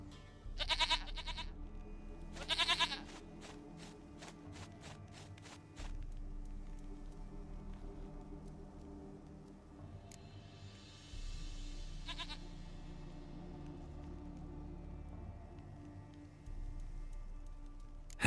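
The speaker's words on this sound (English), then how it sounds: "Goat of mine! Dearest, sweetest goat!" Short goat bleats from The Witcher 3 come in two quick bursts near the start, then a softer cry later, over quiet game ambience with faint footsteps and ticking.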